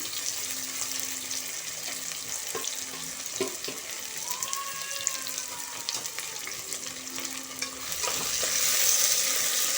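Finely chopped onion frying in a pan for chicken curry, giving a steady close sizzling hiss with a few soft stirring scrapes throughout, growing slightly louder near the end.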